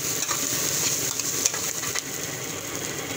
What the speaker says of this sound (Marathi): या प्रकारे आपण याला फ्राय करून घेऊ सगळ्यांना